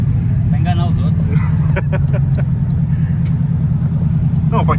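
A turbocharged Volkswagen Beetle (Fusca) drives along with a steady, loud low engine rumble from inside the cabin, while people talk over it.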